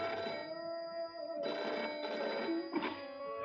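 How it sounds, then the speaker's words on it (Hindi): Telephone bell ringing in bursts of trilling rings separated by short gaps, fairly close and clear, with no talk over it. "साहब, मैम साहब का फोन है"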